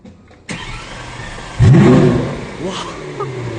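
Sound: Lamborghini Aventador S engine starting

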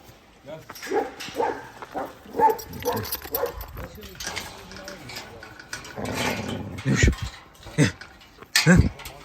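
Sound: puppy growling

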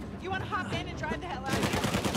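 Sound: gunfire from enemies in video game Uncharted 4

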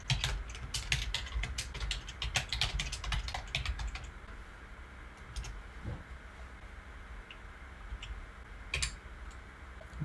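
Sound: typing a command on a computer keyboard

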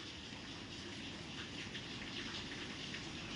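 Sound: rain and rainwater flowing

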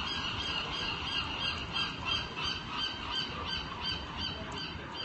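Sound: seagulls calling

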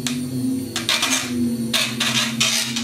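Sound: cheap hand mixer mixing acrylic paint

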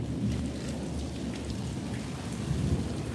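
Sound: heavy rain falling

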